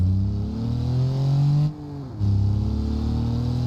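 A Sterling coupe in the BeamNG driving game revs its engine loudly and close, with a rising, buzzing drone that cuts out briefly before surging again.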